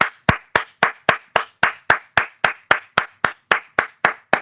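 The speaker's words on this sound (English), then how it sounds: "We're gonna clap it up because Milk took his fade" One person claps alone in a quiet room on a podcast, about sixteen crisp, sharp claps in a steady, even rhythm of roughly three or four per second.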